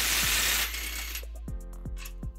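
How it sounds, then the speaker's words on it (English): A ratchet fitted with a 19mm socket loosens bumper bracket bolts on a 2014 Nissan Xterra, giving a few distinct clicking pulls after a short burst of broadband noise, close and alone. "to remove those, we're going to be using a 19mm socket"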